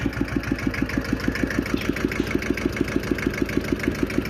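Used tractor engine idling at a Buriram dealer, a steady rhythmic diesel chug with evenly spaced knocks, close and loud, with no talk over it.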